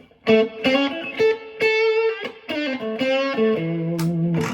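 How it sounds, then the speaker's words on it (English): An electric guitar through a valve-driven overdrive pedal plays a short melodic phrase of sustained, gritty notes with a warm crunch, clear and close, with no talking. "Then with the valve-driven overdrive, here's a page."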